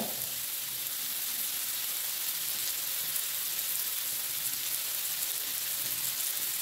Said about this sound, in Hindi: ये जितनी देर मैं फ्राई कर रही हूँ